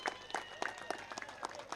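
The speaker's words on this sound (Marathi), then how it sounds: "आणि समाधानसाठी एकदा जोरदार टाळ्या आपण वाजूया." An audience at a cricket prize ceremony gives a brief round of applause for a player named Samadhan, scattered distinct claps heard faintly and at some distance.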